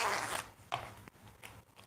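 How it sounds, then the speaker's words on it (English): An open-end clothing zipper is pulled apart and zipped back together during sewing, giving a bright ripping zip burst followed by shorter clicking zips, close and fairly quiet, with no talk. "since the zip I'm using is open and close zipper"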